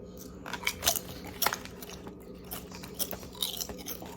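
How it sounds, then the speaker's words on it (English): Crisp crunching bites on Lays hot and sour lemon chicken feet flavor potato chips, with a cluster of sharp crackling chews repeating over a few seconds, close and fairly quiet, with no talking. "The chips themselves are nice and crunchy."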